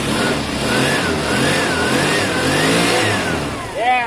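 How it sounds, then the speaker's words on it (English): A Vespa scooter converted from 125cc to 50cc and back to 125cc fires up and revs loudly and close by, its engine note rising and falling through the clip before a sharp final rev. "Yeah, that's a good sounding bike."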